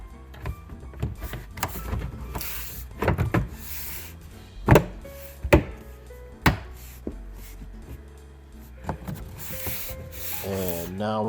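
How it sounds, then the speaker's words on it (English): Plastic clips on a 2012 Toyota Camry door scuff plate snapping into place, with three sharp distinct clicks at the middle after rubbing and handling of the trim panel, close up. "snap it down on the 3 clips at the bottom. You'll hear 3 distinct clicks here in a moment"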